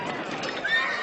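A horse neighs near the end of a short, busy outdoor moment in an animated fairytale adventure, a rising whinny over steady background noise.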